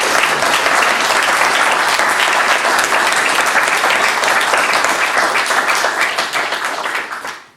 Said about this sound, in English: Let's just give Craig another round of applause.